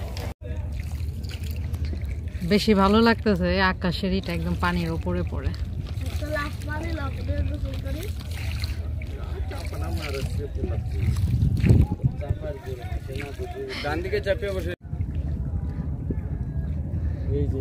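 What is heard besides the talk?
rowing boat moving through swamp forest water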